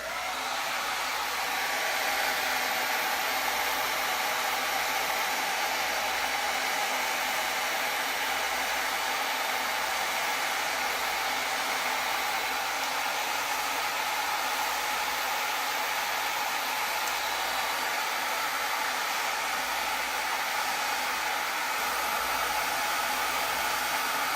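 A hair dryer set to medium speed and warm heat blows steadily and loudly for the whole stretch, a constant broad whoosh with no talking over it.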